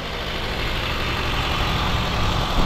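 A Honda Jazz engine, previously seized, idling steadily nearby after starting, a low continuous rumble with a slight rise at the end; no talking.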